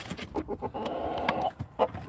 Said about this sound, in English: Rooster, you can't perch on me all night, buddy.